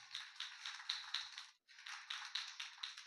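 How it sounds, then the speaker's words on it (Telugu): A congregation claps steadily in a fast, even rhythm at a youth Christmas church service, with a brief pause partway through before the clapping resumes at the same pace. "చప్పట్లు కొట్టు."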